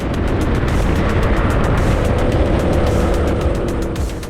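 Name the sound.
racing kart engine during final lap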